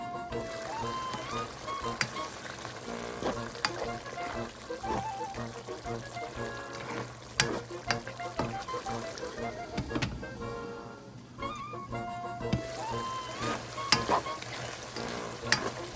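White squash (upo) and canned sardine stir-fry cooks in a Filipino home kitchen pan, a continuous soft sizzle broken by repeated clanks and scrapes of a spatula stirring, with faint background music and no speech.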